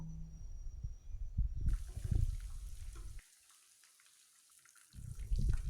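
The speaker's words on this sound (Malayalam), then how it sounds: "നമുക്ക് ചിക്കൻ എല്ലാം നന്നായിട്ട് വറുത്ത് കോരി മാറ്റി വയ്ക്കാം." Chicken pieces deep-frying in hot oil for a Malabar chicken biryani: crackling, hissing sizzle in uneven bursts that drops to near silence for over a second before the sizzling returns.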